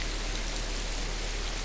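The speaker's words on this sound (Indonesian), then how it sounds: "Semua kami basah di tengah derasnya hujan" Heavy rain pours down steadily at Kawah Ratu crater, a dense, even hiss of downpour close by with no pauses and no voices.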